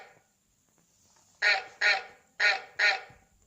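A honking swan-like bird call, four loud, evenly spaced calls standing alone after a short quiet stretch.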